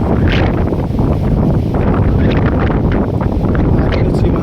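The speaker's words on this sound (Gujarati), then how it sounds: "પવન છે ને એટલે થોડોક અવાજી ઓલો આવશે." Loud, constant rumbling wind buffeting the microphone, roaring and gusty throughout with no break.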